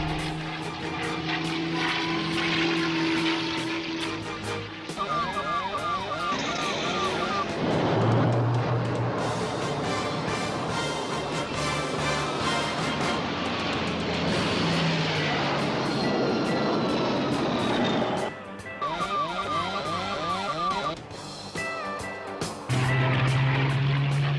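A P-51 Mustang propeller plane makes repeated flybys in a Magnum P.I. episode, its loud droning engine rising and falling continuously under a dramatic music score.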